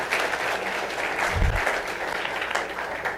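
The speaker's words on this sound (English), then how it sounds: "give a warm round of applause" An audience at a careers presentation breaks into warm, steady applause as the speaker is welcomed onstage, a continuous wash of clapping with one brief low thump partway through.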